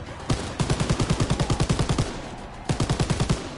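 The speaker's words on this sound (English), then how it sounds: "now I'm like shooting zombies on MG42" MG42 machine gun fired at zombies in a video game, loud sustained bursts of rapid, evenly spaced shots in two runs split by a short pause.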